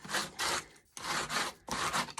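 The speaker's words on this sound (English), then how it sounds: "take my sanding block and I'm just going to sand" A sanding block rubs across a painted wooden Easter egg door hanger, distressing the finish in three steady, close strokes separated by brief pauses, with no talking.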